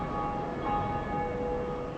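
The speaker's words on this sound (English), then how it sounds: "every time someone beats the gargoyles and rings the bell, anyone else in their shard hears them ringing the bell" Bell ringing in Dark Souls after the gargoyles are beaten, a sustained metallic tone that hangs steadily through the moment, fairly loud and alone over game ambience.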